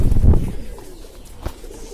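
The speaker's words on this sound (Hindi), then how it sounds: "हमने एक ये कबूतर पकड़ा हुआ है जर्द, कैसे फड़फड़ा रहा है" A captured pigeon flaps its wings in a short, close, muffled burst of flutters, followed by a brief quieter lull and a single sharp flap near the end.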